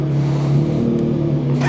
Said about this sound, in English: God, that CP3 sounds so cool.